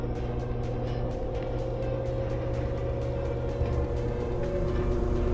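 A GE/Hotpoint washing machine drum spins at speed, giving a continuous, even droning hum with a steady tone and no breaks.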